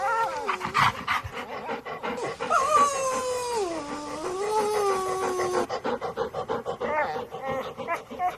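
Playful dog-like whimpers, pants and whines ring out during a school stage performance about a pet puppy, rising and falling in long sliding tones, fairly close against a steady background.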